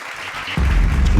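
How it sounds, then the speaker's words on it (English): An audience at a poetry event breaks into applause partway through, a dense wash of clapping and crowd noise that swells up loudly and carries on to the end. "y'all give them a round of applause"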